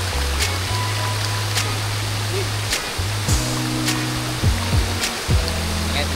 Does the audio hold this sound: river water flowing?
yes